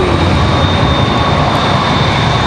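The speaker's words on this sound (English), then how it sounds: "Republic Airways 4596 was our last touchdown there. You probably heard that." A Republic Airways jet roars steadily on touchdown at Raleigh-Durham International Airport, a loud, continuous broadband engine rush with a faint high whine, unbroken for the whole stretch and no voices over it.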